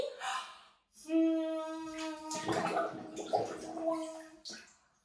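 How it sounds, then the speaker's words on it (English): A baby at a swim lesson blows bubbles into a cupped hand held in the water, a close, steady humming gurgle lasting about three seconds that ends in a breathy exhale, with soft splashes before and after. "We're gonna make bubbles right into our hand."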